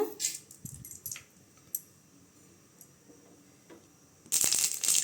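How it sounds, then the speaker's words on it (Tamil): Mustard seeds dropped into hot oil for a Tamil tomato chutney, heard as scattered crackles and ticks at the start, a quieter stretch in the middle, then a loud burst of dense popping and sizzling near the end. "இப்போ எண்ணெய் ஊற்றிக்கலாங்க கடுகு போட்டுக்கலாங்க"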